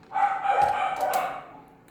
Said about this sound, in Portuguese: Começou os vizinhos aqui latindo.